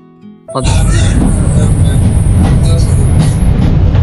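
After a brief quiet start, a loud, steady rumbling roar of the Parjatak Express train kicks in abruptly and continues as its engine is turned at Chittagong station, with faint voices in the background.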